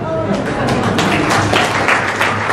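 Audience applause at a Marathi book launch for Kavdase by Anuja Sankhe, a broad wash of hand clapping from a crowd filling the room, with a voice speaking over it.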